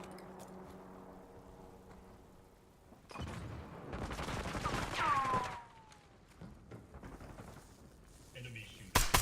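Enemy gunfire in a shooter video game, bursts of shots and crackling volleys that swell in the middle and fade, with a sharp loud blast at the end and voices talking in the background.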